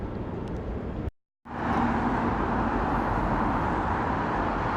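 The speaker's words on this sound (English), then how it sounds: "As always, the traffic's very noisy, so I hope you can hear what I'm saying okay." Dense road traffic rumbles loudly and continuously across the Tyne Bridge, a 19th-century span in Newcastle, with a brief dropout of silence early on before the roar resumes.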